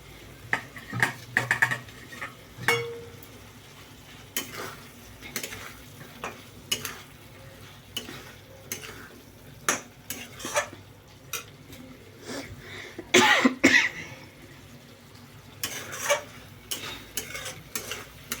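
Cauliflower and coriander leaves frying in oil in a pan for a vegetarian curry with peas, with soft sizzling under intermittent stirring clinks and scrapes, fairly quiet and close, with a louder clatter near the end.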